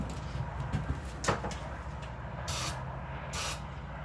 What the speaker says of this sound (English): Let me try and do a fire up here and spray some starting fluid in her.